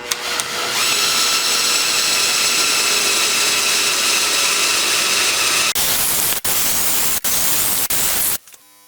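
A drill bores holes through a table saw throat insert using a guide, giving a loud, steady whirring drone for several seconds, followed by a few short bursts of drilling before stopping.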